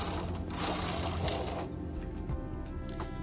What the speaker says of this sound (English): I'm going to go ahead and knit one row.